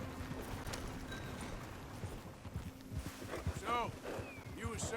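Horse hooves clip-clopping at a walk in Red Dead Redemption 2, a steady rhythmic plodding under continuous game ambience and music, with a voice speaking over it.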